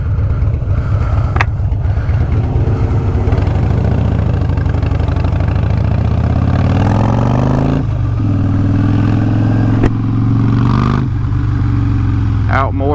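A Harley-Davidson motorcycle engine runs steadily throughout with a deep low rumble, shifting pitch as the ride gets under way. No talking is heard.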